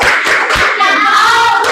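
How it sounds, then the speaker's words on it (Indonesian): Classroom of fourth-grade pupils doing the rhythmic 'tepuk salut' clapping routine together, a loud, dense run of group hand claps with a few accented beats, no talking. "Tepuk salut."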